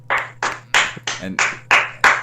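A few people on a podcast clap for a guest in seven distinct, evenly spaced claps. The claps sound close and dry, with a single short spoken word in the middle.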